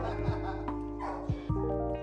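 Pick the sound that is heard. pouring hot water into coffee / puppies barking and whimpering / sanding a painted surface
puppies barking and whimpering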